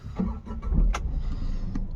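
An automatic car engine starts with a short whirring crank and a catch, close by and fairly quiet, followed by low engine rumble.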